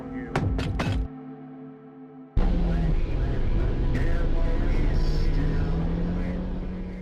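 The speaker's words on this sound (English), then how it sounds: "followed by a loud thump on the car" A sudden heavy thump strikes a car, followed by a loud, sustained rumble and hum like an engine running close by.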